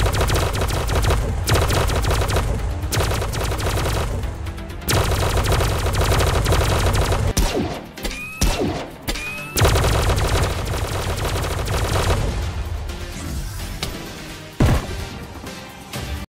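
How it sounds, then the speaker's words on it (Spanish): Rapid automatic shooting from an Iron Man suit in a Minecraft Bedrock superhero addon, a loud continuous machine-gun-like barrage with brief pauses and whooshing blasts partway through, with no talk. "estoy disparando como si fuese Iron Man"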